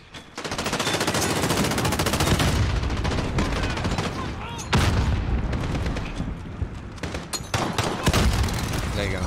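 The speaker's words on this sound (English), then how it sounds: "I'm gonna just start throwing grenades." Dense, loud video-game gunfire from Call of Duty: Modern Warfare, with sustained automatic bursts and several heavy grenade-like blasts across the stretch, close and continuous.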